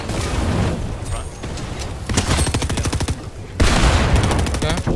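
Fortnite tournament gunfire, rapid bursts of automatic shots and heavier blasts rattling close and loud for several seconds, with game effects layered over them.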